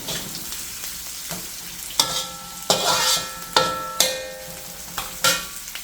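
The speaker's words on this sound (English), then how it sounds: "If this stage of sauteing is done properly, your curry is going to taste yummy and tasty." Onions and split green chilies sauté in a kadhai for spicy chicken curry, with a steady sizzle broken by about five sharp scraping stirs of a spoon against the pan.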